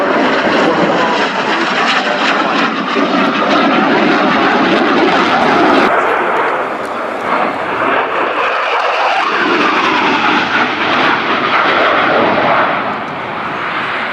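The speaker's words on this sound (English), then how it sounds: "Plenty of afterburner being used in this display, but here mark a slow roll" A Saab Gripen fighter jet roars through an air display at RAF Fairford with heavy afterburner use, a loud, continuous broadband jet rumble holding steady throughout, with a slight dip and shift in tone midway as it rolls past.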